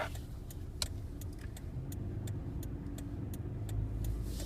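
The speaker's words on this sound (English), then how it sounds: "Okay, now I'm turning on to Burr Oak Drive. I'm making a left here." Car driving through a residential neighborhood and turning left onto a road, heard from inside as a steady low engine and road rumble with faint, regular clicking above it.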